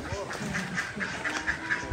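Ducks at a farm pond give a short run of nasal quacks, close and moderately loud, with a voice talking over them.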